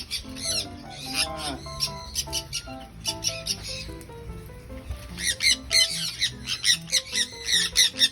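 Several birds squawk and chatter nearby in harsh, repeated bursts, with a faint voice briefly in the background.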